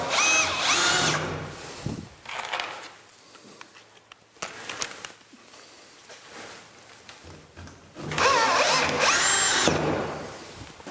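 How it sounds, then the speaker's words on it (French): A power screwdriver drives screws through plasterboard into ceiling framing, giving loud close whirring bursts at the start and end with quieter handling and scraping between. "Et il ne reste plus qu'à visser la plaque sous l'ossature,"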